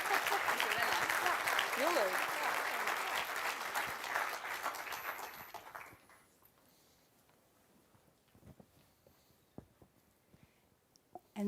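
A room full of people at an award ceremony and closing applauds warmly, with loud, dense clapping for about six seconds that then stops, leaving a quiet hall with a few scattered knocks and shuffles.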